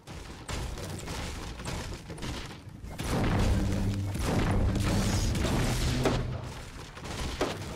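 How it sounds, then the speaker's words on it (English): Gunfire in the Fortnite battle royale video game: a series of sharp shots and booming impacts, several bursts over a continuous loud game soundscape, with faint voice in the background. "I just got shot."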